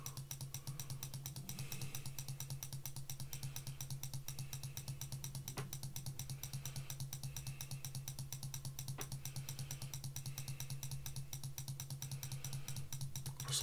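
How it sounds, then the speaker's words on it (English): Rapid, steady clicking from an auto mouse clicker runs continuously at low volume over a faint background hum, with no talking. "sorry about the clicking noise"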